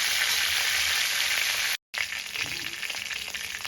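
Chicken fries in oil in a pan with a steady, close, bright sizzle that cuts out for a moment and then resumes.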